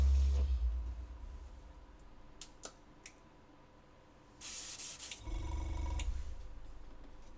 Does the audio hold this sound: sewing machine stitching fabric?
no